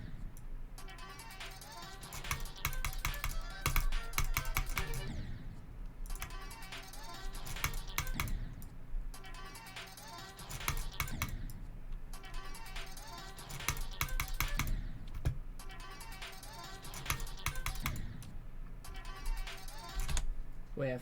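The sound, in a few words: fast clicking while playing a computer game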